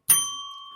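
One press of a small desk bell on a podcast, a sharp clear ding followed by a clean ringing tail, with no voices over it.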